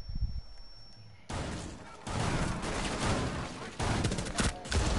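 First-person shooter gunfire bursts out in several loud volleys of rapid shots after a quiet opening moment.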